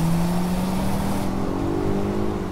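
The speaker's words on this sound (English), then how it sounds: "that sounds like a four-cylinder, because it is" A Polestar 1's four-cylinder engine droning steadily up close, its low hum rising slightly in pitch as it pulls, with wind and road noise fading partway through.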